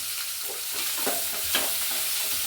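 Four green chillies frying in a hot pan for an okra (bendekayi) dish, giving a steady close sizzle with a couple of brief stirring scrapes, no voices.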